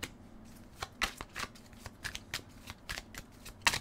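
Tarot cards being shuffled by hand at close range, a run of quick riffling bursts and soft slaps in an irregular rhythm with brief pauses between them.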